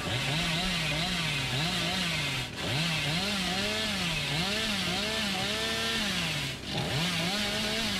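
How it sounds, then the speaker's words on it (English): A video-game chainsaw revs and whines in a constant loud drone, its pitch rising and falling in repeated swoops, with two brief dips where the engine cuts out momentarily. "So the chainsaw overheats more when we're actually sprinting."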